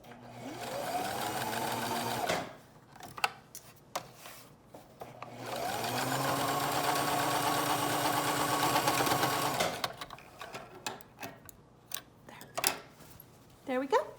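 A sewing machine stitches a three-layer fabric mask in two long steady runs, with brief handling and clicks between them, all close and fairly loud.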